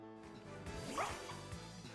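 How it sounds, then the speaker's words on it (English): A dog Pokemon in Pokemon Scarlet gives a short synthesized bark over the game's busy music and effects, at moderate loudness. "Oh, that's a dog."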